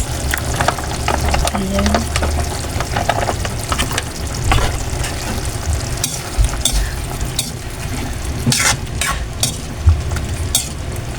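Chicken liver igado sizzling loudly in a pan as green peas go in and get stirred, with steady frying and spoon scrapes against the pan, and a brief voice.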